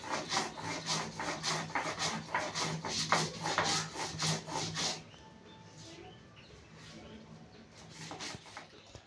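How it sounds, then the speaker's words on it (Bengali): Stone pestle rubbed back and forth on a shil-nora grinding stone, crushing spices for a village-style okra dish: steady, rhythmic scraping strokes for about five seconds, then stopping, leaving faint room noise. "তাই আমি সবসময় প্রত্যেক রান্নায় দেখবেন শিলনোড়ায় মশলা করি"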